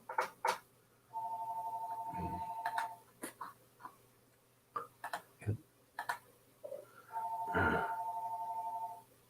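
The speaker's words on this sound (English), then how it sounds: "Phone's ringing." A telephone in the house rings in two long electronic bursts a few seconds apart, fairly loud and close, with scattered clicks and handling noises between the rings.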